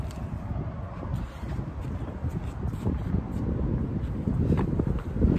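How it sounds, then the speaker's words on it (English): Strong gusting wind in Fairfield, California buffets a tripod-mounted microphone beside a railway in a continuous low roar, growing slightly louder toward the end. "It's really windy over here in Fairfield, Vacaville."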